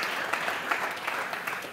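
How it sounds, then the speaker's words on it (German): Brief applause from a conference audience welcoming a guest panelist, a short even burst of many hands clapping at moderate distance, with no talk over it. "Auch ihm bitte einen großen Applaus"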